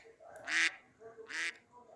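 A goose gives two short nasal honks about a second apart, fairly faint against a quiet background.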